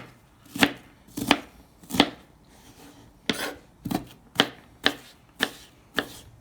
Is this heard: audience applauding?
no